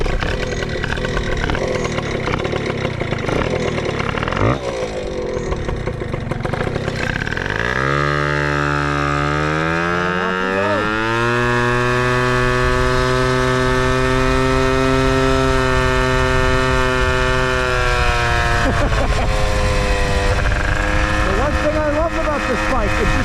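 A 1979 Honda PA50 moped engine revs up while riding, its pitch sweeping upward as the clutch grabs, then holding a steady high buzz before easing and climbing again, loud and close throughout.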